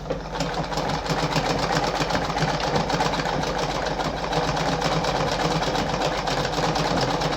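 A Singer 5107 sewing machine stitches continuously, a steady loud motor hum with fast repetitive needle clatter that holds even throughout.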